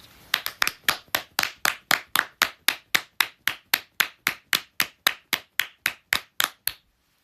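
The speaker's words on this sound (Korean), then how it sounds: "박수 한번 칩시다" Hands clap in a steady, even rhythm, about twenty-five sharp claps over roughly seven seconds, close and clear with nothing else heard, as a small group joins in during a Korean live stream by the pop duo AKMU.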